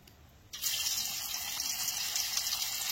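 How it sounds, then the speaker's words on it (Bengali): Paneer dropped into hot oil in a home kitchen, a sudden burst of loud sizzling that starts after a brief quiet moment and keeps hissing steadily without speech. "তেলটা গরম হয়ে গেছে, আমি দিয়ে দিচ্ছি পনিরটা।"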